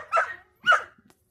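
A dog barks twice, sharp and fairly close, with a short pause between the barks. A small whimper-like sound follows, on a farm.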